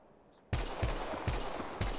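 Automatic weapon fire in the mobile battle royale game Apex Legends Mobile: four loud, close bursts of rapid gunshots in quick succession, starting after a quiet moment.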